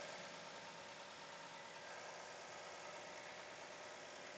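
A Melco embroidery machine sewing letters gives off a steady, unbroken mechanical whir and rapid needle clatter that holds at an even level throughout, with no one speaking.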